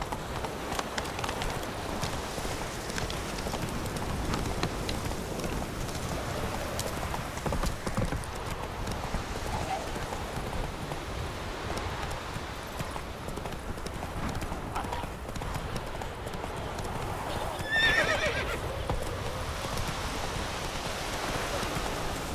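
Roach, a horse in the video game The Witcher 3, gallops steadily with continuous clip-clopping hoofbeats, close and fairly loud throughout, mixed with a rain-like outdoor wash and a brief whinny-like sound near the end.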